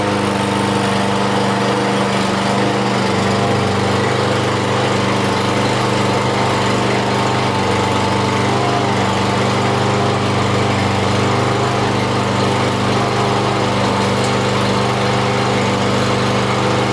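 A lawn mower engine that had refused to start fires up on fresh fuel and keeps running. It is loud and close, a steady buzzing drone with a slight shift early on and no talking over it.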